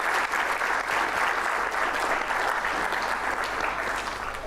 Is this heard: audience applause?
yes